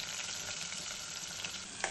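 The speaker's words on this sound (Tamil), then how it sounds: "வெங்காயம் அதிக அளவு வதங்க வேண்டிய அவசியம் இல்லை, லைட்டாக வதங்கினாலே போதுமானது" A steady, close sizzle of sliced onions sautéing in oil fills the whole moment, with a faint stir near the end.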